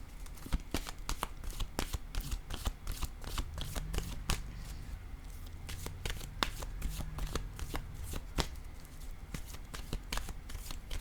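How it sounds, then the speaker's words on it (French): Playing cards are shuffled and set down during a reading, with close, crisp riffling and a rapid series of snapping flicks and soft slaps throughout, and no speech. "Je vais déposer une autre carte ici en cette zone."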